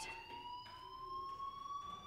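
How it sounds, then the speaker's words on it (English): A fire alarm in a Warcraft custom game rings in steady, slowly rising electronic tones, continuous and moderately faint, with no talking over it. "do you hear that fire alarm? That means you should be outside."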